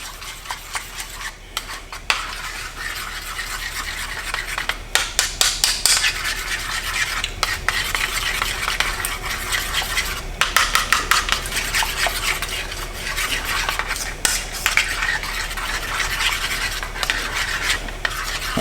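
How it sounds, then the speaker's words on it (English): Spoon stirring shrimp boil ingredients together in a pot, steady scraping and rubbing strokes with clinks of utensil on metal, close and continuous, no voices. "And then we'll stir all this together."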